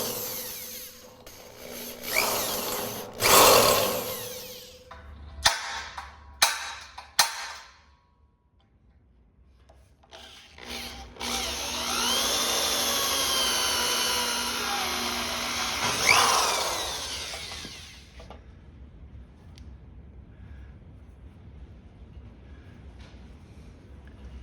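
Power drill with a countersink bit boring holes through wood while building a sailboat trailer, in several short loud bursts followed by one longer sustained run of drilling, close and alone with no talk.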